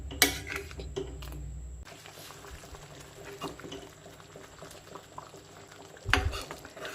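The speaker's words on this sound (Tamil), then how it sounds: "இந்த ஸ்டேஜில் சேர்த்துட்டு ஃப்ளேமை நல்லா லோ பண்ணி வச்சுட்டு நம்ம அப்படியே வேக விட்டுறணும்" A ginger and jaggery mixture simmering over a low flame: soft, faint bubbling with a few light clinks of a utensil against the pan near the start and end, no talking.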